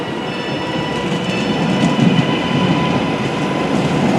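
Passenger train crossing Stockport Viaduct on the approach to Stockport Station, a loud steady rumble and roar of wheels on rails heard from on board, with faint clatter and a thin whine running throughout.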